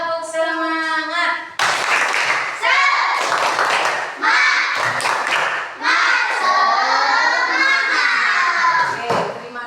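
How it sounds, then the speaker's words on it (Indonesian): Classroom of children doing a rhythmic 'tepuk semangat' spirit clap, bursts of loud patterned clapping mixed with group chanting and children's voices, close and energetic, alternating with short pauses. "kita akan melakukan tepuk semangat dulu"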